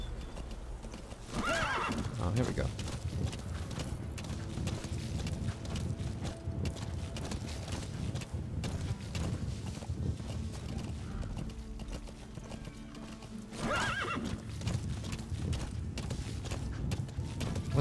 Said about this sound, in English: Can this horse gallop? Speed up horse.